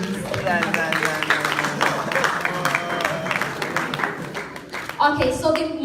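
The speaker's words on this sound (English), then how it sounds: "can we clap for them, please?" An audience at a Ghanaian conference claps for two speakers, dense applause across the hall with voices and talking mixed in, swelling again near the end.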